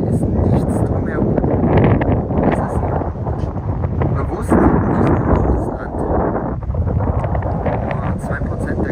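Strong wind buffeting the microphone at an open scenic lookout on Castaway Cay, a continuous roaring rumble with gusty swells throughout.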